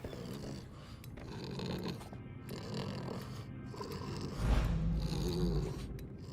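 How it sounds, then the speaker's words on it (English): A pet snores steadily and close up, with raspy, rhythmic breaths, a louder stretch-like snort partway through, then settles back into slow snoring. "he is stretching, yawning, and going back to sleep"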